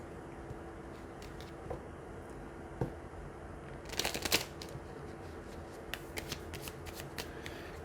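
Small Flower Petals mini cards are shuffled by hand, soft riffling and flicks building to a quick burst of card snaps midway, then scattered light taps, with no talking.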